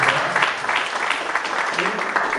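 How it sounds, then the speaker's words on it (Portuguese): Audience applause at a public security lecture, a dense round of many people clapping with slight swells, with some voices mixed in underneath. "Uma salva de palmas por gentileza."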